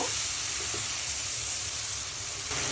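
Beef pieces fried with spices in a pan, being stirred for a home-cooked beef and cabbage curry, hiss with a constant, even sizzle and faint scraping.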